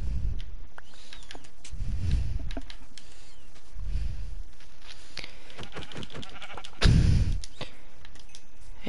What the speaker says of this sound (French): Ça commence bien, on a déjà des moutons.